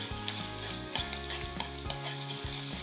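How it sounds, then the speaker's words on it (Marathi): Lots of garlic frying in hot oil for a tadka, a steady close crackling sizzle with rhythmic stirring clatters, no voices. "तेल गरम केलं आहे, यामध्ये खूप सारा लसूण आणि मस्त सोनेरी रंगावर आहे ना लसूण तळून घ्यायचं."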